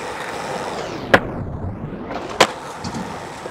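Skateboard switch frontside big spin on a street deck, two sharp clacks of wheels and board hitting the ground about a second apart, with faint rolling between them and no talk.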